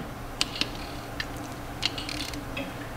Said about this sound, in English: So now ready to tighten to torque the bearing cap to the spec.